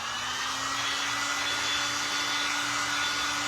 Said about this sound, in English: Yeah, my dryer is very powerful.